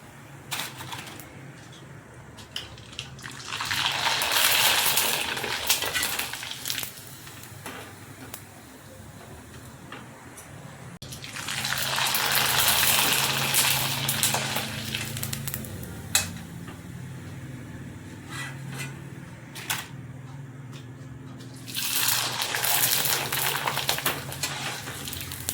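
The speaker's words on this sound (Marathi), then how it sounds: "चला तर मग आता या पापडांना आपण तळून बघूया." Rava papads fry in hot oil in three loud bursts of crackling sizzle, each lasting several seconds, separated by quieter stretches of faint bubbling, close up with no talking.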